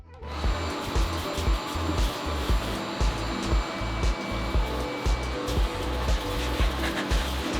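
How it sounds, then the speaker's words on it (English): A vacuum cleaner runs continuously with a steady whining roar, its tone pulsing and bumping as it is moved around a Ford F250 pickup, no talking. "We gotta vacuum this up and get it out of here."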